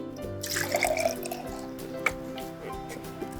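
Water poured into a jar tinted with blue food dye, a brief splashing trickle with a few drips, fairly close and steady, with no talk over it.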